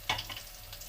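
Tempe sizzles and crackles as it fries in a small amount of oil in a pan, with a sharp spatter at the start, then steady quiet frying close by.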